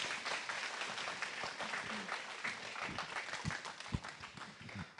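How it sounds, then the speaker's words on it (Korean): Audience at a worship symposium breaks into sustained applause welcoming a guest speaker, steady dense clapping filling the room for the whole stretch with a few louder claps near the end. "우리 뜨겁게 박수로 환영하겠습니다."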